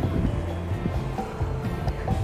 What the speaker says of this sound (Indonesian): sedang di pantai